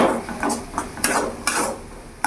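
Spoon stirring spices into bhindi masala fry in a pan, with several distinct scrapes and clinks against the metal at irregular intervals, close and moderately loud.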